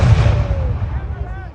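A cannon fires at a Revolutionary War reenactment where Highland regiment troops in kilts are present; a single loud, deep boom opens and rolls away in a long, fading rumble, heard outdoors at some distance.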